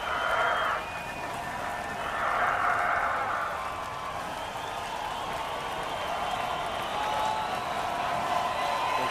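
Local fans cheering at the 2022 Mubadala United States SailGP race, a distant, steady wash of crowd noise and scattered applause that swells gently and stays far off.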